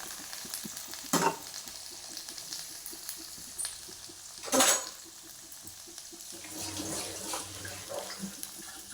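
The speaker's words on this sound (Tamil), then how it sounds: "எல்லாத்தையும் ஒன்றாவே வதக்குறேன்." Onion, green chili, ginger, garlic and curry leaves fry together in a pan for upma, giving a soft steady sizzle with a few sharp scraping stirs of a spoon against the pan.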